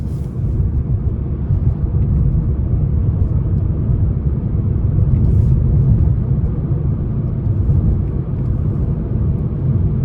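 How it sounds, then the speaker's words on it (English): Steady low rumbling road noise fills the cabin of a 2024 Nissan Sentra SR 2.0 CVT on a rough back road, a constant droning roar with no talking. "road noise I feel is a bit more prevalent just going on this rough back road"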